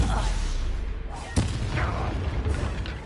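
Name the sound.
Stupefy spell cast in video game Hogwarts Legacy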